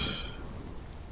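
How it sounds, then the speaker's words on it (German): Rain falling in the video game Fallout London, a faint, steady patter with a brief brighter burst at the start that quickly settles into a soft hiss. "Na toll, es regnet."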